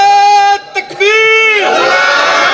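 At a wedding gathering with a religious speech, a crowd roars a loud, unified response to a Takbir slogan. A single raised voice calls out first, then many voices join in a sustained shout that fills the rest of the clip.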